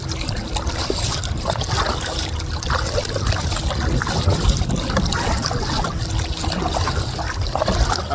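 Kayak paddling across water in the Biesbosch, Netherlands, with irregular splashes and trickles of paddle strokes over a continuous watery wash, fairly close and steady throughout, no talking.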